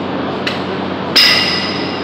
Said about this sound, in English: your hammer, and you break the bead this side,